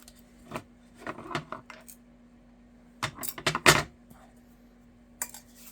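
A small silver metal paper clip is handled at a craft table, giving light jingly metallic clinks and rattles in short scattered bursts against a quiet background.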